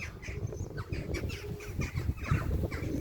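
A pet bird that returned home after three days lets out harsh, repeated squawking calls, loud and close, in uneven bursts with no talk.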